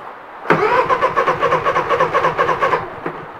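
A Honda 3000is inverter generator's engine catches and starts, then runs with a steady pulsing hum for a few seconds before cutting off, close and fairly loud.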